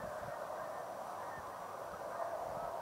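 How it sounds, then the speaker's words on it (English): Canada geese honking as a flock flies overhead, a continuous stream of overlapping calls at moderate distance, steady in loudness throughout, with no talking. "a bunch of Canada geese are flying overhead"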